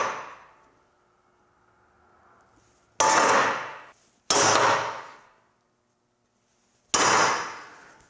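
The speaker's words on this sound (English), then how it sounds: "So now we'll go ahead and center punch our holes." Metal dethatcher parts being center punched, four sharp ringing hammer strikes on the punch spaced a second or more apart, each clang decaying slowly, loud and close.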